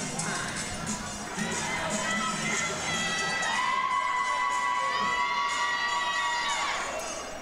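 A large crowd cheers and whoops steadily at a roller derby bout at the Big O, a dense roar of voices with shouts rising above it, sustained throughout.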